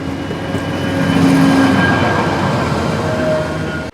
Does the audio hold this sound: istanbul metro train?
yes